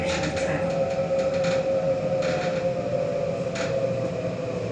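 A Sydney T8 line train arrives at Domestic Airport station with a loud, steady rumble of wheels on rails, broken by a few short bursts of brake hiss.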